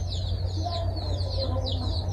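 Several chickens, with young chicks among them, cluck and chirp softly over a steady low hum, close by and continuous.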